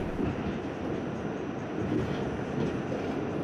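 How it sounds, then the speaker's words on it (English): A New York City subway train rumbles past with a continuous, fairly loud roar of wheels and cars on the track, heard alone for a few seconds. "the New York City subway has fascinated me. From the smell to the look, the sounds relax me."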